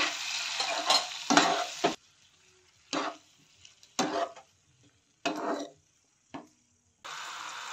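Marinated paneer frying in hot oil in a pan, sizzling in bursts with spatula scrapes between stretches of near silence, loud and close.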